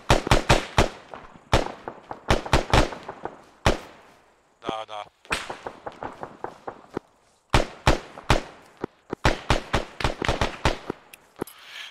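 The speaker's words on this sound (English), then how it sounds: "We've got gunshots to the left." Rapid bursts of gunfire in the video game Arma 3 crack in quick volleys, loud and close, with a short pause midway and a brief word spoken.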